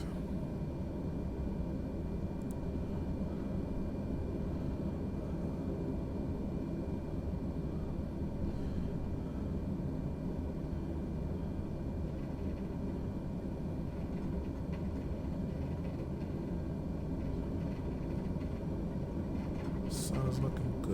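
King Air 350i Chrome turboprop taxiing in Microsoft Flight Simulator: a steady, even engine drone with a constant hum runs unbroken for about twenty seconds, with a faint click near the end.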